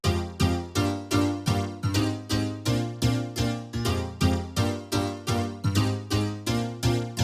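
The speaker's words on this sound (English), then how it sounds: "For sound design, I used here the infamous Korg M1 house piano" Korg M1 house piano playing a steady rhythmic chord riff in a future house track, bright punchy stabs repeating evenly and loud, with no voices.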